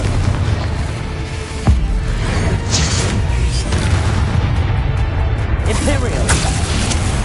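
A Confringo fire spell blasts during a Hogwarts Legacy duel, giving booming, crackling bursts and whooshes over a dense, loud game mix with a voice shouting a spell.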